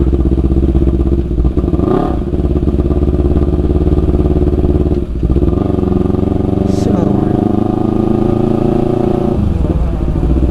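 A motorcycle rides along a rain-soaked road at night, its engine droning loud and close throughout, with a few shifts in pitch as it changes speed.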